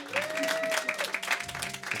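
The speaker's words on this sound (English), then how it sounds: "Applaud. They made a record." A small group claps during a radio studio interview with a band, brief lively applause with a faint voice mixed in.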